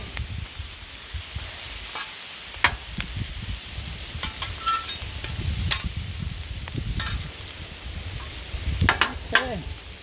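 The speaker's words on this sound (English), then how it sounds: "We got a griddle going on." Kielbasa and cabbage sizzle on a hot griddle, a steady close frying hiss broken by sharp scraping and stirring clicks from a spatula, with no talking.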